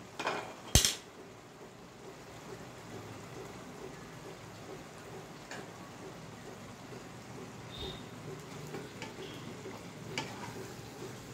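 A spoon stirs kechki fish bhuna with vegetable stalks in a pan after salt goes in, a faint sizzling bed with a sharp metallic clink near the start and a few soft scrapes.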